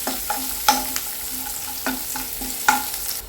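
Chopped onion frying in a pan for semolina kheer, a steady close sizzle broken by several sharp scraping stirs of a spoon against the pan.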